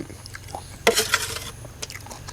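Close-up crunchy chewing, one loud crisp bite burst followed by softer munching sounds, no talking.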